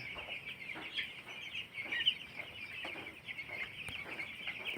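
Broiler chickens in a poultry farm shed cluck and chirp continuously as a dense, faint flock chorus, with no single bird standing out.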